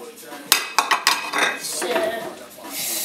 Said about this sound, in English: Now we're going to get the peppers and put them in. So straight after, and then we're going to give it another good mix.